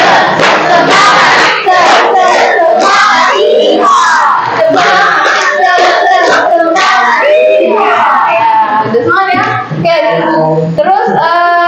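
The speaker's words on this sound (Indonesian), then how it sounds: "Tepuk semangat ala cowboy." A chemistry class of students shouts a loud, rhythmic cowboy-style spirit cheer together, chanting and yelling in unison with bursts of clapping, filling the room from start to finish.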